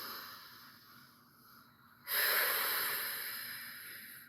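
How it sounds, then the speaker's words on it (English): Deep breathing during a breathing exercise: a faint, slow inhale builds, then a loud, close rush of air is drawn into the lungs and gradually tapers off. Nobody speaks. "we want to hear the sound of your breath coming into the lungs."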